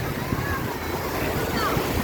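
Rough surf crashes on a Thai beach under strong wind, a steady loud wash of waves with gusty noise and a faint voice mixed in.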